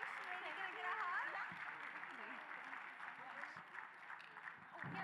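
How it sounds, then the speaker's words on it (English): An audience at the Feast of Nations 2023 event applauds a winner, steady clapping running throughout beneath a voice speaking and some whistling. "A round of applause for our winner, please."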